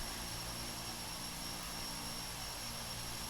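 A steady, loud engine drone from a simulated Twin Otter DHC-6-300 turboprop taxiing, with a continuous broadband roar and a faint high whine throughout, unchanged for the whole stretch.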